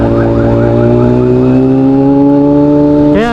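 An inline-four Kawasaki ZX6R sport bike accelerates hard in first gear, its engine note climbing steadily to a high-pitched scream. It is loud and close, and a quick pitch change comes at the end.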